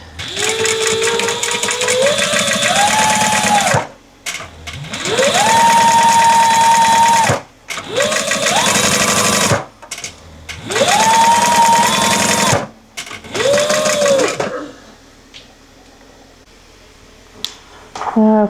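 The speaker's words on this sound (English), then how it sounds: "I am sewing." Sewing machine stitching boxy fabric pouches in repeated bursts of a few seconds each, loud and close with short pauses between runs, then a quieter stretch with no stitching at the end.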